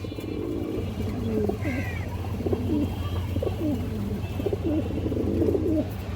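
A pair of Gorra pigeons coo repeatedly in low, rolling phrases close by, steady throughout over a constant background hum, with a faint chirp from another bird.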